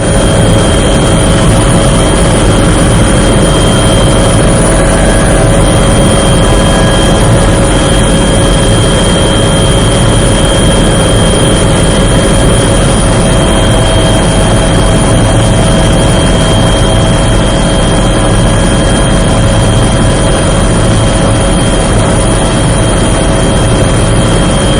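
A helicopter ferrying security forces and weapons to a base camp on the Karregutta hills drones loudly and continuously, a steady heavy engine and rotor hum with whining tones that never lets up.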